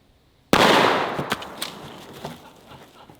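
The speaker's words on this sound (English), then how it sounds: "Haven't fired this shockwave in like a year and a half." A single loud, close Mossberg Shockwave shotgun blast fired at a Premier Fortis helmet, with a sharp attack and a long decaying outdoor echo and faint rattles afterward.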